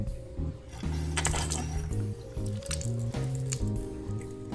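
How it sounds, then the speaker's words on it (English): An under-sink faucet on a four-stage water filter with a UV light sputters as air bleeds from the line, giving irregular spitting bursts and gurgling pulses of water. "Just cycle through the faucets a couple times like this until you get a good solid stream."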